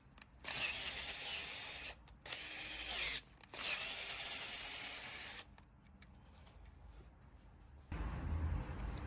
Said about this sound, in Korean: 5mm 드릴로 구멍을 넓혀줍니다